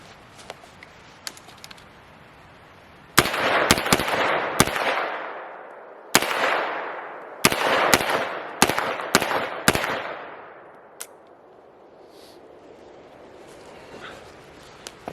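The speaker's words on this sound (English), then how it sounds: "we're going to put a few more rounds through this" HK SP5 pistol firing about a dozen sharp, loud gunshots in irregular bursts, each shot cracking and ringing out with a decaying echo, outdoors with no talk.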